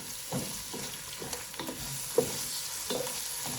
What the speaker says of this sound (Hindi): इसको तकरीबन 1-2 मिनट इसको ऐसे भूनेंगे, अदरक को और प्याज को